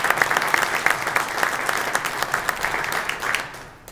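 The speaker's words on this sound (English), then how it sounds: "give them another round of applause." A short, loud burst of crowd applause at a political event in Kingston, dense clapping throughout that fades out at the end.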